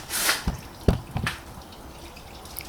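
Engine oil drips from the sump drain hole of a 2011 Nissan Note 1.6, with a few close, distinct drips and splats near the start and quiet stillness afterward.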